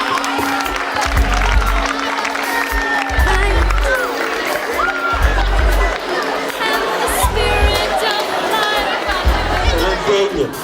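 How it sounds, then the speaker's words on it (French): Crowd applauding and cheering at a school peace ambassadors' certificate ceremony, a steady dense wash of clapping and chatter with children's shouts running the whole time, loud and close. "C'est magnifique, si on peut applaudir."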